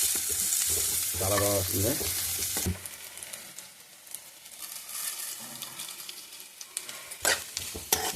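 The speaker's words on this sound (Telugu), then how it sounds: "ఉల్లిపాయ వేస్తాను చూడండి. పచ్చిమిర్చి ఉల్లిపాయలు కలిపి వేసుకోవాలి." Chopped onion and green chillies hit a hot pan and fry with a bright, continuous sizzle and stirring scrapes. Someone speaks briefly at the start, then the frying carries on alone, close and fairly loud.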